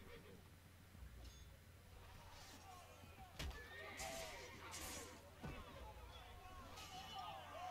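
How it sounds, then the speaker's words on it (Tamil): A horse whinnies and snorts amid game ambience from Assassin's Creed Brotherhood, with faint crowd babble and a few hoof knocks in the background, moderately quiet overall. "ஏன் குதிரையில் ஏறுறான் பாருங்க"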